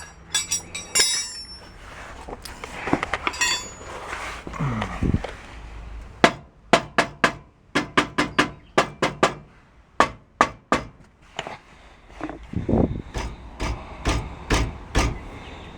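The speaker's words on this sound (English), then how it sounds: "You tap on the muffler and you hear like a little internal clunk." A tractor muffler is tapped by hand, a series of sharp metallic knocks, irregular at first and then in a steady rhythm, close and fairly loud, each tap followed by a brief internal clunk or rattle.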